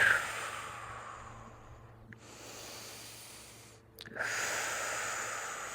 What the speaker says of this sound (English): So breathe in, breathe out, sink.